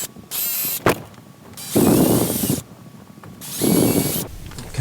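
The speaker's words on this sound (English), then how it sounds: "now after we have the pilot holes drilled" A power drill boring pilot holes into a wooden beam above a window for blind mounting, with two sustained loud drilling runs separated by quieter handling and clicks, heard up close without speech.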